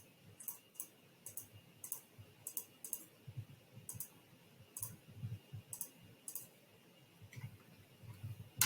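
A computer mouse clicks while a SOAP note is put together: quiet, crisp clicks in irregular pairs and single taps, spaced across several seconds over a faint steady hum.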